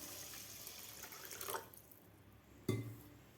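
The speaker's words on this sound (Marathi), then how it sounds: "आता तांदूळ बुडेल एवढं आपल्याला पाणी घालायचं आहे." Water splashes from a tap over washed rice for soaking, a steady running wash that ends around the midpoint, followed by a single sharp knock of a bowl or vessel near the end.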